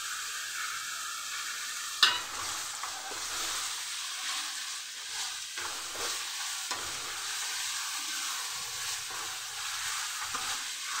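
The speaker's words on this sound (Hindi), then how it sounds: "अब इसको हल्का सा गोल्डन ब्राउन होने तक इसे हम भूनेंगे।" Onions and kasuri methi frying in a pan, with a continuous soft sizzle and repeated scraping strokes of a spoon. A sharp clank comes early on, and the sound stays close and moderate, with no voices.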